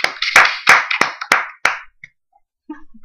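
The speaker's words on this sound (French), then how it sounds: "Bravo, on peut l'applaudir." Six loud, close hand claps in a quick uneven run, each a sharp broadband crack, from a small group applauding a guest on an F1 chat show; after the claps stop, silence follows with a few faint noises at the end.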